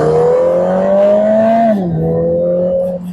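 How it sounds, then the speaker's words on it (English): Lotus Emira's turbocharged four-cylinder engine pulls hard after a downshift, a loud steady drone climbing in pitch, then dropping sharply with the gear change and settling into a lower sustained hum. "when you want the power, you just drop a couple of gears"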